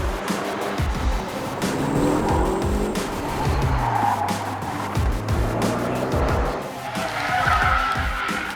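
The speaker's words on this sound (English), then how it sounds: "Although wheel spin off the start, nice and aggressive." A race car spins its wheels off the start, tires squealing and skidding loudly as the engine revs and shifts in rising sweeps, close and intense throughout.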